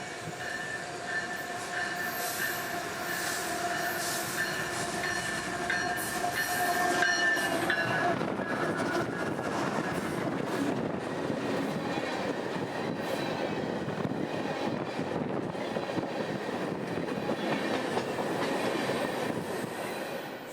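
A freight train rumbles past steadily at night with wheel squeal and rhythmic clacking, a continuous moderately distant roar with no voices.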